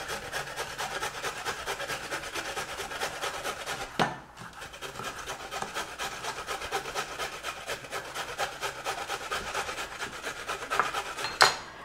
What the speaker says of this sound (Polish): I teraz proszę troszeczkę zeszatkuj w te marchewki. Na mniejszych oczkach, większych? Nie, na większych oczkach